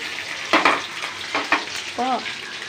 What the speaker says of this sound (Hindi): देखो तेलटा गरम हो गला यहाँ दे प्याज प्याज